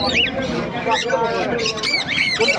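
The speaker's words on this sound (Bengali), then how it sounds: "হ্যাঁ এখানে ককাটেল আছে" At a busy West Bengal exotic bird market, cockatiels let out sharp, repeated squawks amid a noisy crowd, with someone talking throughout and the calls rising above the constant background chatter.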